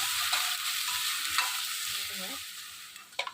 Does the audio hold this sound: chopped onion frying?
yes